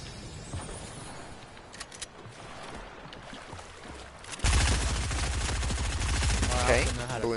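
Shotgun fire in Fortnite: scattered muffled gunshots in the first half, then a sudden loud burst of dense, sustained gunfire and rumbling game noise that carries to the end, with no voice on top.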